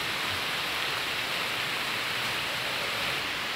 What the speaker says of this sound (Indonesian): Dan cuaca hari ini hujan ya